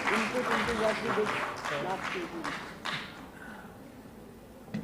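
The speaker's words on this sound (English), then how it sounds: "let's have a round of applause for all these committee members." Audience applauding committee members on stage at the closing plenary of the ICSE 2025 software engineering conference, a broad steady wash of clapping that thins toward the end, with some voices mixed in.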